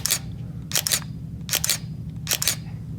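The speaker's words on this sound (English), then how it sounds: "When you press your shutter button, that mirror will flip up" A DSLR camera fires its shutter four times at steady intervals, each a crisp double clack as the mirror flips up and drops back, close and fairly quiet against a faint background hum.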